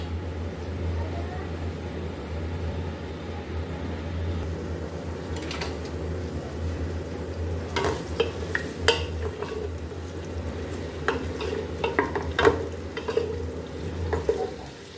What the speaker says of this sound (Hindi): साथ में इसके हम प्याज डालेंगे और प्याज को हम फ्राई कर लेंगे।